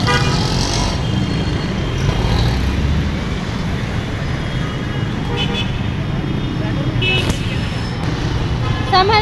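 Busy road traffic with car horns tooting, steady engine rumble and passing vehicles, loud and continuous with a few sharp honks; someone talks over it.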